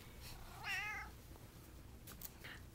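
A pet cat gives one clear, drawn-out meow at close range in a quiet indoor setting, followed by faint rustles and a short, softer chirp-like call.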